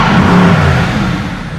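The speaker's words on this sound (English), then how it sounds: "You'll hear the switchable sports exhaust open." A 2017 Mercedes-Benz AMG GT Roadster engine in Sport Plus mode roars loudly with its switchable sports exhaust open, a sustained deep rumble that eases slightly toward the end, close and with no talking.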